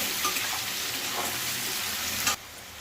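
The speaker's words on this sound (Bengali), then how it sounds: "এখন আলুগুলোকে ভালো করে ভেজে নেব" Potatoes seasoned with turmeric and salt frying steadily in a pan, a continuous close sizzle that cuts off abruptly near the end, leaving a quieter hiss.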